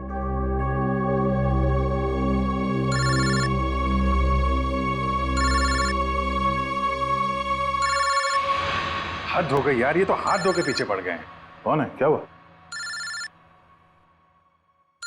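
A mobile phone rings loudly in repeated bursts, shrill electronic tones over a low musical drone, while people talk tensely in Hindi around the last rings in a police-drama office scene.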